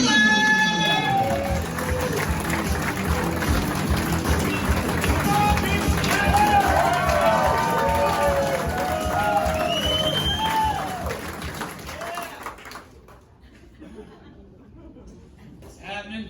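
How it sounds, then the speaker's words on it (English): A comedy club audience breaks into a dense wash of applause and cheering that holds steady and loud for about twelve seconds, then fades quickly. "give a warm round of applause to Chad Miller!"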